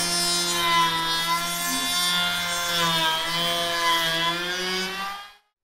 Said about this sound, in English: fastest way, using planer.